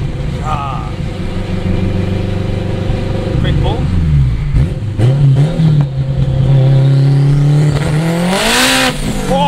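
A turbocharged, straight-piped 800 hp AWD 2002 Acura RSX Type-S pulls hard in cold weather, engine roaring and climbing in pitch through gear changes, loud and close from inside the car, with a rising whine near the end.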